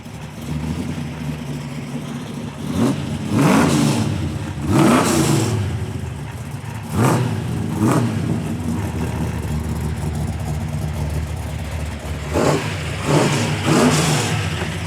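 A big-block 396 V8 in a 1966 Chevrolet Impala Super Sport idles with a deep, steady rumble, then is revved in several sharp blips, swelling loud and falling back to idle between them, close by.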